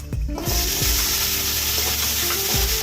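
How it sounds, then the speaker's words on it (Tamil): Small shallots hit hot oil with sautéed garlic and ginger for a Tamil ridge gourd thokku, setting off a loud, close sizzle with a few stirring clanks and scrapes, and no talk. "அடுத்தது நம்ம வெங்காயத்தை போட்டுக்கலாம். சின்ன வெங்காயம் ஒரு 10 வெங்காயம் வச்சுருக்குறோம்."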